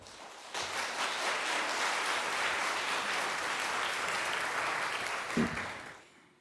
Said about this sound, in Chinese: 请咱用掌声来甲因鼓励。